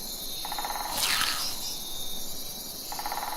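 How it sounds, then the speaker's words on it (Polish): Forest mosquito, an insect endemic to an atoll, giving a close, high-pitched buzzing and pulsing drone that swells briefly midway, with no voices. "Obserwujemy właśnie komara leśnego."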